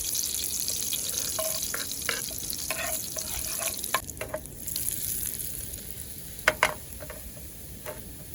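Chopped garlic and prawns fry in butter in a pan, giving a soft, steady sizzle with scattered clicks and scrapes of stirring, close and fairly quiet.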